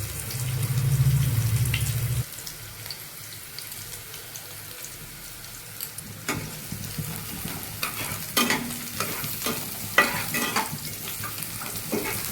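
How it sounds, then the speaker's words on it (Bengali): Chopped onions hit hot oil in a heated wok, first with a loud burst, then a steady close crackling sizzle marked by frequent sharp clicks from stirring, and no voices. "কড়াই গরম হয়ে গেছে, এবার তেল দিয়ে দিলাম। পেঁয়াজ কুচিটাও দিয়ে দিলাম"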